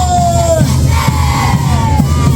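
A large crowd at a Caporales dance parade in Arica, Chile, lets out a loud, sustained collective battle cry, many voices merging into one roaring shout.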